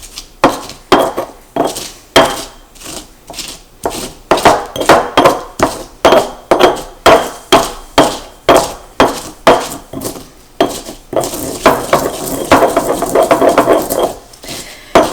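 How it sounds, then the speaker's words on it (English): Garlic is pounded into a paste for hot sauce with steady rhythmic thuds, about one or two each second, loud and close, then shifting to a quicker grinding, scraping stretch near the end. "So I'm going to keep at this and grind it up"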